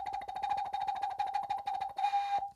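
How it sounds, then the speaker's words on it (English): An ocarina is played with quick TAhKah tongue articulation, giving a rapid stream of short, detached notes on one steady pitch, fairly soft and close. It ends on a slightly longer, breathier note. "But on an ocarina, it sounds like this."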